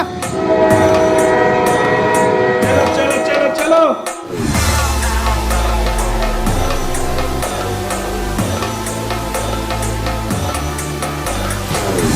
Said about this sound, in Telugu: ట్రైన్ స్టార్ట్ అవుతుంది, తొందర దిగండి రా.